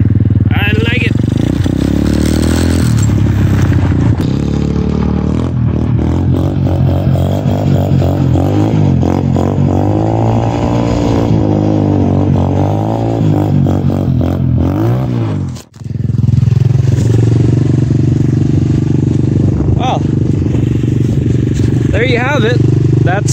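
Pit trike motorcycle engine while riding, loud and close, revving up and down in repeated swells with rattling and a brief drop near the end.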